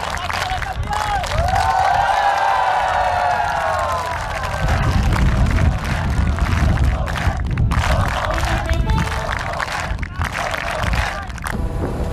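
About 1,200 soldiers of a regiment at an outdoor military training ground applaud and cheer, a dense continuous roar of clapping and shouting crowd noise throughout, with announcer-style speech over it.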